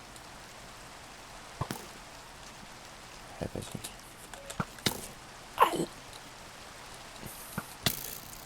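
Rain at night in the video game Minecraft, a soft steady patter under scattered clicks and thumps from gameplay, with a brief spoken remark midway.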